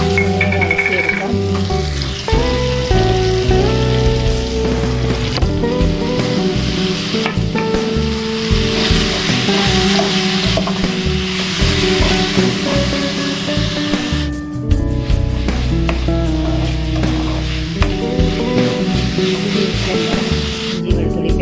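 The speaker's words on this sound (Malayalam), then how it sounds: "വഴറ്റിയെടുക്കാം." Crushed shallots and garlic sauté in a pan for beef curry, giving a loud, steady sizzle with repeated scraping stirs and occasional clinks throughout, with no voices.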